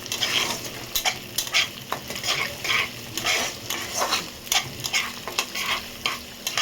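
An egg cracked into a hot pan is broken up with a utensil as it fries, giving a constant sizzle under rhythmic scraping and tapping strokes, close and fairly loud.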